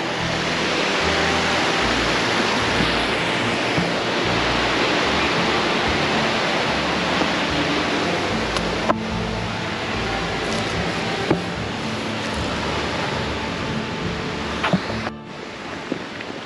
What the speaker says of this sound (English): The Charming Creek Waterfall, or Falls.